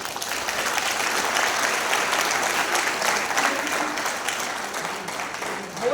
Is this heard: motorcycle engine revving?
no